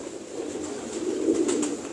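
Several pigeons at a breeder's loft give low, rolling coos close by, a soft continuous murmur that swells slightly partway through.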